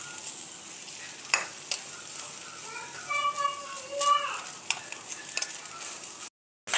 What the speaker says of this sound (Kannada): ಆ ತೆಂಗಿನಕಾಯಿನ ತೊಗೊಂಡು ಸ್ವಲ್ಪ ಫ್ರೈ ಮಾಡ್ಕೋಬೇಕು